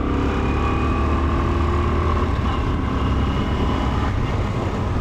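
Up close, a Royal Enfield Scrambler 350 motorcycle engine, rated around 20 bhp, is held at a loud, sustained roar with a dense mechanical rumble that stays fairly even throughout.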